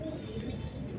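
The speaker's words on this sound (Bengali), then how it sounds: "এই দুইটা কবুতর অনেক ভালো ব্লাডের কবুতর।" High-flying breed pigeons coo softly and continuously, a low, close burbling murmur with a faint chirp above it.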